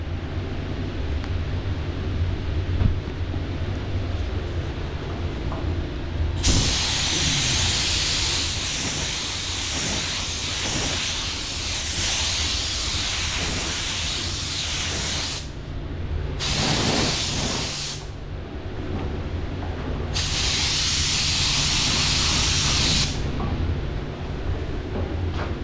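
A spray gun hisses paint onto a car in several long bursts of a few seconds each, loud and close, separated by short pauses over a faint background hum.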